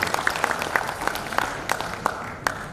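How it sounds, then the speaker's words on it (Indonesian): An audience at the PERADIN national working meeting in Jakarta applauds steadily, a dense patter of many hands with a few louder individual claps standing out near the front. "Tepuk tangan buat Pradin"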